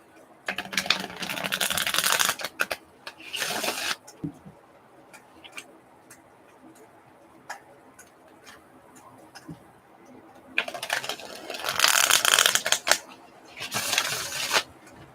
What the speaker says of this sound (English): I'm going to do a ruffle shuffle real quick.